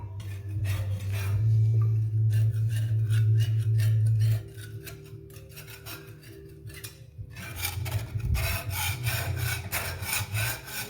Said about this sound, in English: I got the grease cleaned off of that axle